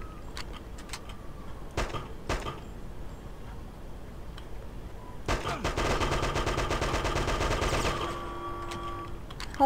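Uzi fire in the game Hitman 2: Silent Assassin, with a few sharp isolated shots early, then a sustained rapid automatic burst of about three seconds, loud and dense, before it trails off.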